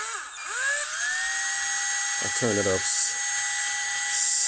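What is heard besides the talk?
power drill drilling pilot holes in wood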